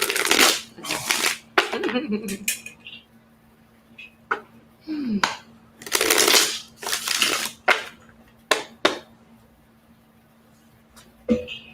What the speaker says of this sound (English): A shuffle here and a shuffle there.